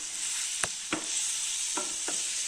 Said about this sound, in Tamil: இப்போ நம்ம இதில் போட்டு நல்லா வறுத்து எடுத்துக்கலாம்.